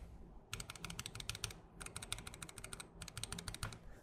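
Light, quick typing on a Newmen GM980 mechanical keyboard with stock switches, three bursts of close, crisp keystrokes with short pauses between, no voice over them.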